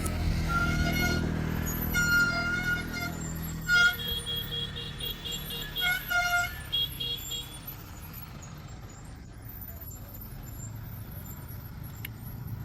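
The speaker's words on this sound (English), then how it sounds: "the endless line of massive trucks trapped in this mandatory mountain retreat" A long line of heavy trucks sits in a traffic jam on a foggy mountain road: low engine drone, several horn toots early on, a hiss like an air brake, and a distant rumble that carries on after the horns stop.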